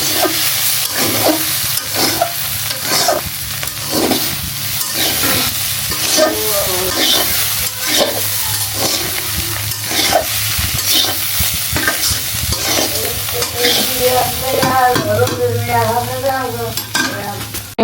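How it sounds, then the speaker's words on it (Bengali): Bitter gourd (karela) and potatoes frying in a pan, a loud continuous sizzle with regular stirring scrapes throughout and a brief squeaky scraping run near the end, close up. "এখানে হচ্ছে করলা ভাজি হচ্ছে, করলার আলু পুইরা যেতেছে রে বাবা"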